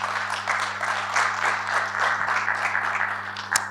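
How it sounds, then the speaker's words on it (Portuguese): An event audience claps in a dense, steady round of applause that holds evenly for a few seconds. "Uma salva de palmas,"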